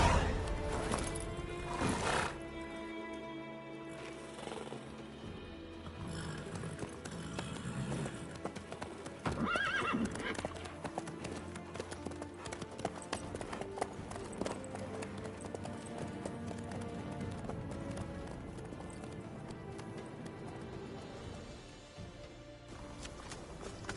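A horse in the video game The Witcher 3 clip-clops along with steady hoof beats under game music, whinnying loudly early on and again midway.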